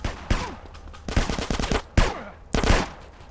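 Loud, close gunfire from the video game GTA comes in several sharp bursts, some rapid like automatic weapon fire, separated by short gaps. No talk is heard over the shots.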